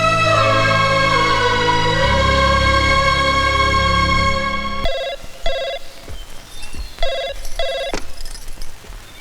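A telephone bell rings in a home in a Hindi film scene, first as a sustained ring over a musical background, then as four distinct repeated ring bursts alone.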